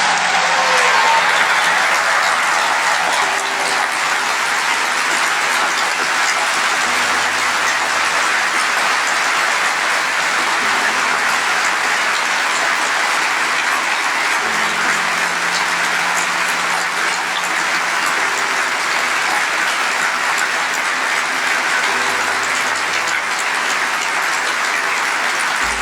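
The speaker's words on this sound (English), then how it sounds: "Please rise and applaud." Mourners at a police detective's funeral rising and applauding, a long, dense, steady wash of clapping from a large crowd that holds at an even level for over twenty seconds.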